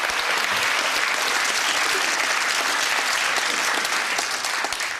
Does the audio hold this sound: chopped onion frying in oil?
no